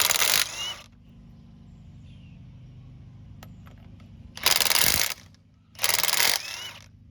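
Wheel and tire work on a 2004-2008 Ford Focus: loud bursts of mechanical ratcheting from a tool at the start and in two later runs, with quieter clicks and clatter between.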